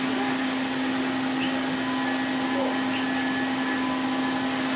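Vacuum cleaner running continuously with a steady, even roar and a strong tonal hum, no talk over it.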